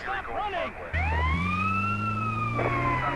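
An ambulance siren in GTA San Andreas wails in smooth rising and falling sweeps over a low steady engine drone, loud and close.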